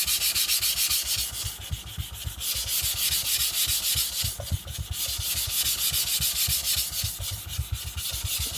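Knife blade being ground on sharpening stones while thinning the blade, a steady rhythmic rasping scrape stroking back and forth in quick even passes, close and loud throughout with no speech.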